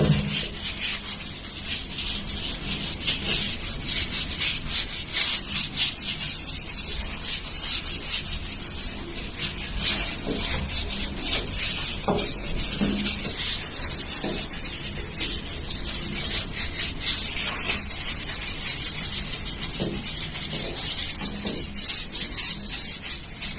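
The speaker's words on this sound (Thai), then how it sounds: "เราก็มาขัด มุมที่เราลงไฮเตอร์ไว้นี่แหละ โดยใช้แปรง" A brush scrubs a bathroom stone floor along the grout, where bleach was applied to black mold stains. The scrubbing is steady and close, with dense continuous bristle rasping and no talk.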